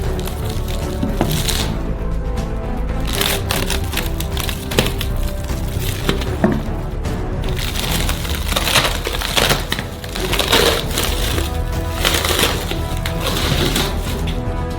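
Wooden walls are pulled off a giant Twix mould, giving continuous loud cracking, creaking and splintering wood noises with scraping and knocks throughout.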